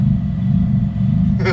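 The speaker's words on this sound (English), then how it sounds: "The car drives really weird now, and it has this crazy funny idle." A Mitsubishi Evo X engine idles with a heavy, uneven low rumble, loud and close, steady for the whole moment before a brief higher noise at the end.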